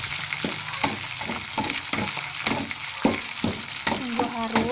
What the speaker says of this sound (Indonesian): Untuk menumis bawang sama bawang semeru,